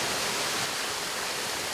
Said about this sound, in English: It is one of the highest waterfalls in the state.